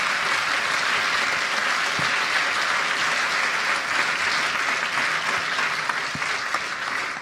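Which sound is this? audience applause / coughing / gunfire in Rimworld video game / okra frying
audience applause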